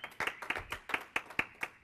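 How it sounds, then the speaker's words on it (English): An audience claps in a steady, moderately close burst of applause at a technical conference on Nagios XI monitoring software, with individual claps clearly separated in a quick, fairly regular rhythm. "Go ahead and give him a big round of applause."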